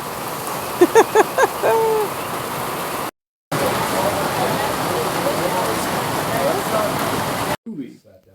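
Heavy torrential rain pours down in the Great Smoky Mountains in a dense, steady hiss, with a brief voice early on and a short gap in the sound.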